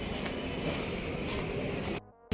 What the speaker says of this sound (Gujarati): તો મિત્રો આ છે આપણી ટ્રેન જે આપણને બોટાદથી અરણેજ સુધી પહોંચાડશે